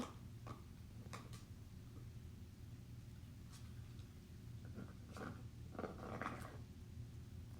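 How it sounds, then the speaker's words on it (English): A dog chews on a toy nearby, producing faint, irregular clicks and gnawing crunches scattered over a steady low hum, with no talking. "That noise you're hearing is my dog Sprocket chewing on a toy"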